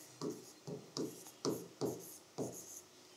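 Chalk or marker strokes on a board during an accounting lesson, five distinct scratchy bursts in an uneven rhythm, close and moderately loud with short pauses between, no voices.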